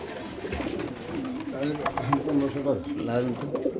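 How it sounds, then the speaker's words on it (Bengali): Pigeons cooing close by, soft throaty rolling calls repeating over a few seconds with faint background noise. "এখানে আছে একজোড়া কবুতর খুব সুন্দর"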